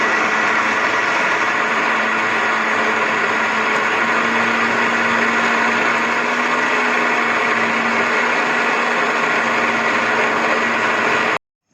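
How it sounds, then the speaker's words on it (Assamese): A mixer grinder grinds cooked rice into a paste with a loud, steady motor whir that holds for about eleven seconds and then cuts off abruptly. "গ্ৰাইণ্ডাৰত মই এতিয়া ভাতকেইটা পেষ্ট কৰি লওঁ।"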